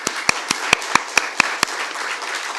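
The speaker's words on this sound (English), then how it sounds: "please give them a big round of applause" Eight sharp, evenly spaced claps ring out over a soft hiss, like a slow, sparse start of applause with no voices.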